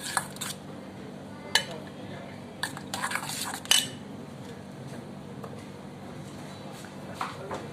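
A utensil mashes avocado with extra virgin olive oil in a bowl, making sporadic sharp clinks and scrapes against the dish over a quiet room background.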